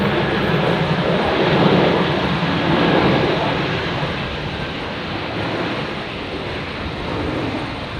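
Jetstar flight 822 arrives at Brisbane Airport from Sydney as a heavy, rumbling airliner roar that swells and eases in slow waves, loud and continuous throughout, with no talk.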